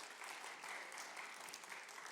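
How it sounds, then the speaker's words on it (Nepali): A church congregation at a Nepali Christmas service claps in thanks to the Lord, a brief, faint burst of many hands heard from a distance. "ताली बजाएर धन्यवाद दिउँ हाम्रो प्रभुलाई"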